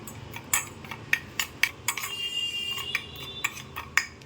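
A spoon scraping and clinking in a bowl as cooked Maggi noodles are mixed with soy sauce, garlic and chili flakes, with sharp, irregular taps and steady stirring up close and no talking.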